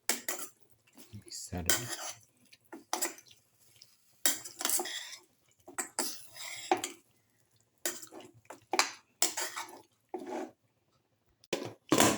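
A spoon or spatula clatters and scrapes in a pot while garlic cumin lamb casserole ingredients are mixed thoroughly, coming in short, uneven bursts of metallic clinks with quiet gaps between them; a voice speaks briefly.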